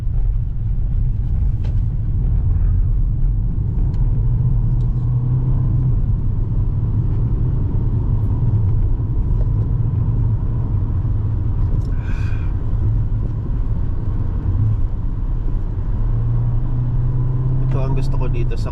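Low, steady rumble of a car cruising on the road with engine and tyre noise heard from inside the cabin, continuous throughout with a brief higher tone midway.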